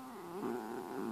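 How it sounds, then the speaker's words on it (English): Chatty cat vocalizing indoors, a short close, soft murmuring trill with a purring, rolling quality lasting about a second, alone and fairly quiet. "You chatty cat."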